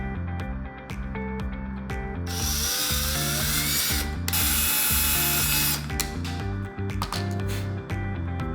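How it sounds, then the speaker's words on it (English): A power drill whirs in two sustained high-pitched bursts, drilling holes in a claw base and driving screws, with clicks and mechanical rattles between them and a steady hum underneath. "we're going to be taking my drill, drilling some holes into the claw base"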